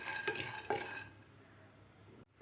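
Roasted chickpeas being dry-roasted in a pan over medium gas, heard as a few quiet rattling stirs and scrapes early on, then near silence.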